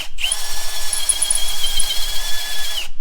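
Power drill biting into metal in a garage, a loud, close, high-pitched squeal held steadily for about three seconds before cutting off.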